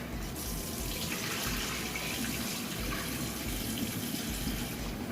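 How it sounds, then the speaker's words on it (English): Rice is washed under a running tap while cooking Haitian white rice, a steady, close rush of water splashing into a sink without pause or talk. "We just trying to make sure we wash it until that water is clear"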